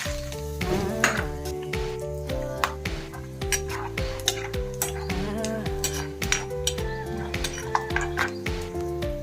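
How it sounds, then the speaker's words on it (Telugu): Handful of peanuts frying in a cup of oil in a kadai, a steady bright sizzle with crackling bursts throughout, accompanied by a continuous harmonic music bed and occasional stirring clinks. "ఇప్పుడు మనం పల్లీలు వేయించుకుందాం."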